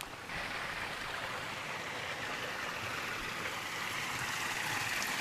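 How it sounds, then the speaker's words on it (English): A small creek flows at a campsite, giving a steady, even rush of water that continues unbroken throughout, with no voices. "Also, it has a nice little creek."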